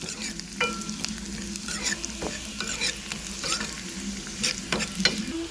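Chopped onion fries in a pan for a curry of drumstick leaves and jackfruit seeds, giving a steady close sizzle broken by repeated scraping stirs of a spoon, with no talking.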